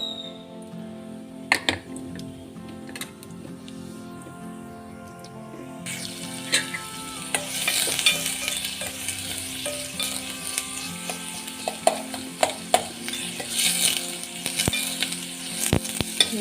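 Onions frying in a pan in a home kitchen, a steady broadband sizzle that grows louder and brighter partway through, with occasional sharp clicks and taps from stirring, close and continuous with no talking.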